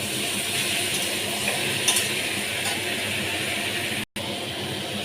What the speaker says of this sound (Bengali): এটাকে একটু ভালো করে কষিয়ে আমি আলুটাও এটার মধ্যে অ্যাড করে দেবো